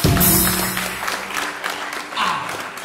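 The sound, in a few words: congregation applauding in church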